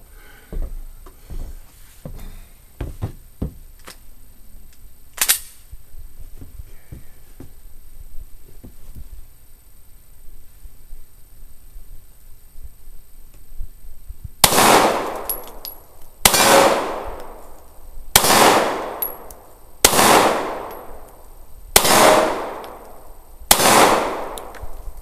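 Six loud 9mm full metal jacket shots fired from about 30 feet at a steel armor target, each a sharp crack with a ringing metallic clang, spaced roughly every two seconds after a stretch of faint handling noise.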